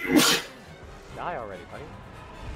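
A short, sharp sneeze bursts out right at the start during live game commentary for Monster Hunter World, followed by someone speaking over the game sounds.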